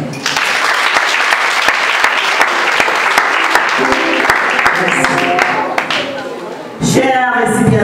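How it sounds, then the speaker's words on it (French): Assembly at a graduation ceremony applauds the standing graduates, a loud, steady wall of clapping with distinct sharp claps, softening near the end before voices and other sounds rise. "Tandis que l'Assemblée est priée de les applaudir,"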